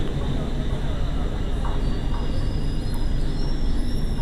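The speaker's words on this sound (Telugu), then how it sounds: "డిపార్చర్ అయింది రాజమండ్రి రైల్వే స్టేషన్ నుండి సర్కార్ ఎక్స్ప్రెస్." The Circar Express pulls out of Rajahmundry railway station with a steady, loud rumble of the train in motion. Faint higher tones drift above it, and no voices are heard.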